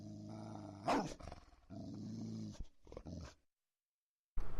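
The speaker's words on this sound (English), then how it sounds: "There's the barking, and then here's the growl and boof." A dog named Celestine growls low and harmonic, then gives a sharp deep boof and more rough growling, heard close and loud as a recorded sound bite before it cuts to silence.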